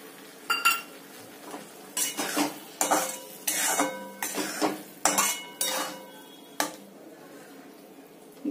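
Spoon and utensil clinks against a pan while milk is added to carrot halwa and stirred, a series of sharp metallic scrapes and knocks in uneven rhythm, close and fairly loud, with no talk.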